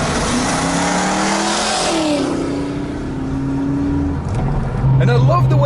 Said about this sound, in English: And I love the way this car accelerates.